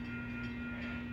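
Train passing by at a railroad crossing, a steady sustained tonal drone with rumble underneath, continuous and fairly close, with no talking.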